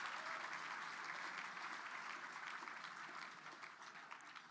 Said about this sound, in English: Another round of applause to our board members for your service.